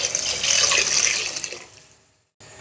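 Water poured into a pot for vegetable pulao, a loud steady splashing stream for about two seconds that tapers off to near silence, then a brief return of faint noise.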